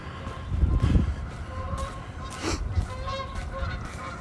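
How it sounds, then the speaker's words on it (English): Geese honking nearby on a downtown street in Regina in April, repeated calls over outdoor background noise from a walk. "We're not in the park, but you can still hear the geese."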